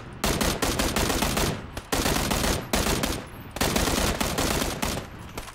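Gunfire in the battle royale game PUBG Battlegrounds: loud, close bursts of automatic fire in several sustained volleys separated by brief pauses.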